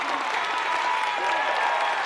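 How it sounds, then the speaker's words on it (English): A convent of nuns applauds and cheers on a monitor, a dense, steady wash of clapping heard at moderate loudness without letup. "Your entire convent is cheering you on."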